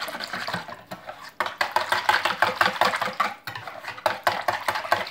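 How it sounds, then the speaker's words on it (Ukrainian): Vegetable oil being stirred quickly into milk, with rapid repeated scraping and swishing strokes close up, briefly pausing and then resuming in a steady rhythm. "Размешаю тоже, это все по-быстрому"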